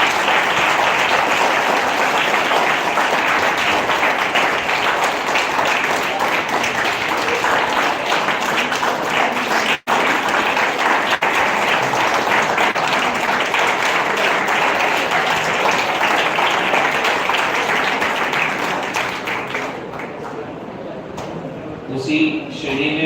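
Loud, sustained applause fills an award ceremony hall for an honoree and keeps going for about twenty seconds before thinning into scattered claps.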